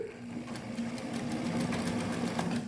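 A sewing machine backstitches a seam while making a bag, a steady close mechanical whir with a fast rhythmic needle chatter running throughout.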